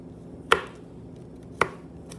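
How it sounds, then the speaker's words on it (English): Two sharp knife chops through a small piece of garlic on a cutting board, spaced about a second apart, close and crisp with quiet room sound between. "what I have next is just a little piece of garlic and mince it, chop it"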